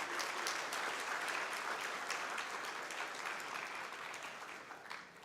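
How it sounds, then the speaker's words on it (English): An audience at a public felicitation function for Advocate Jayant D. Jaibhave applauds the event organizers, a sustained even clapping that fades slightly toward the end, with no voices over it. "Let us give a big round of applause to the organizers."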